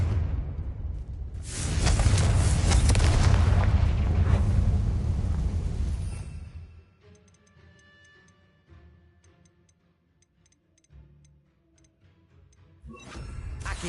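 Confringo blasting spells burst in Hogwarts Legacy, a loud rumbling explosion swelling for several seconds then fading into quiet ticking debris and faint effects, with another blast rising at the end.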